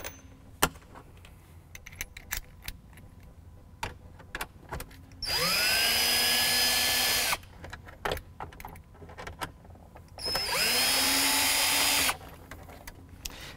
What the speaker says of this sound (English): Now you can go ahead and remove the two Phillips head screws at the front of the console top panel.